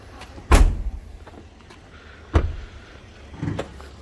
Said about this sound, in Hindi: बोनट खोलो,